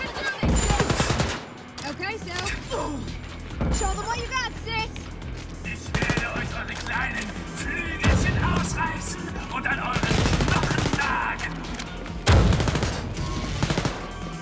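Sturmgewehr rifle in Wolfenstein: Youngblood fires in loud, rapid automatic bursts, several volleys spread across the stretch amid other combat noise, with someone talking over parts of it.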